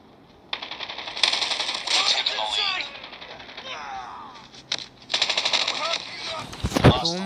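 Rapid automatic gunfire in Call of Duty, long rattling bursts with a brief pause between them and a sharp crack near the end, loud and close with a voice heard faintly underneath.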